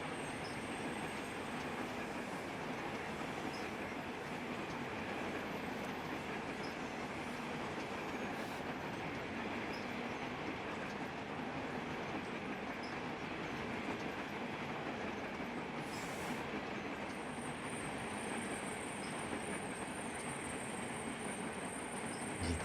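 OCA freight wagons in the Train Simulator Classic game roll along the rails with a continuous rattling clickety-clack, and high wheel squeals come and go over the steady rumble. No one speaks.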